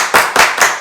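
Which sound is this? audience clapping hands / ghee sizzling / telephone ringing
audience clapping hands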